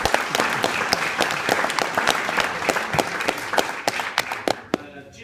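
Listeners at a music adjudication applaud a young clarinet player, a dense, close round of clapping with sharp individual claps that carries on steadily before stopping abruptly.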